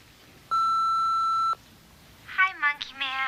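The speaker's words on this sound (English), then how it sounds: "Do your thing when you hear the beep." A steady electronic answering-machine beep sounds for about a second, followed by a voice beginning to speak.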